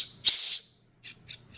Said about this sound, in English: This is a Outdoor Element ferro rod whistle